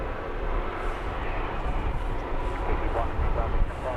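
EasyJet and Wizz Air airliners at London Luton Airport, one on final approach and two taxiing toward the runway, give a steady broad jet roar that holds at an even level throughout.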